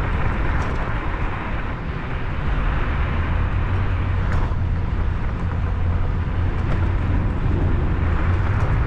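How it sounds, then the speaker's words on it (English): Cars passing beneath a road overpass over Desert Inn Road in Las Vegas at night, a steady loud traffic roar with wind rush from a moving e-scooter above. "And cars are passing by underneath."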